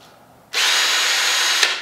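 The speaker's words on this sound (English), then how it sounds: "We're just going to use an actual drill." Power drill spinning against a wooden dowel rod in a friction fire attempt: a steady high whine kicks in after a brief quiet start and runs unbroken, loud and close, with a small catch near the end.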